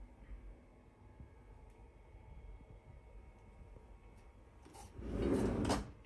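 A pantry drawer fitted with large compartments slides open or shut in one short, close rumbling burst near the end, after several seconds of quiet room tone.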